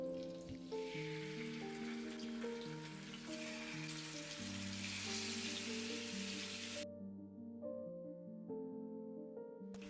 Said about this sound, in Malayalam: നമ്മൾ ആ പാത്രത്തിൽ തന്നെ മീൻ പൊരിക്കാൻ വെക്കുകയാണ്